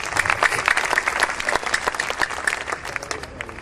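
Audience at a Hindi poetry recital breaks into brisk, steady clapping, a dense close wash of applause that holds strongly before easing slightly toward the end.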